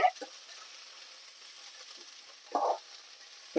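Lentils and dried red chillies roast in a pan, a soft steady sizzle with two brief louder scraping stirs, while a voice talks quietly nearby.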